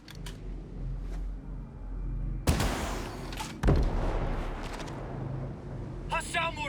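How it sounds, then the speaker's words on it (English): Incoming mortar rounds in Ghost Recon Breakpoint land as two heavy, close booming impacts a second apart, over a steady low rumble of battle and other distant gunfire. "Watch out for mortars!"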